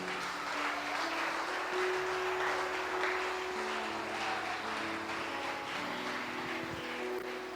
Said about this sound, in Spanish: Dese un aplauso.